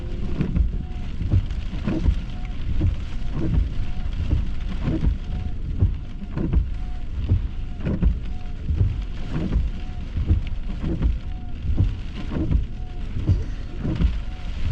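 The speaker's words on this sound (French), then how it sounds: "il pleut en ce moment" Steady rain falls during a storm chase near Sorel-Tracy on a squally April day, a dense continuous patter with faint rhythmic thumps, heard close and without any talking.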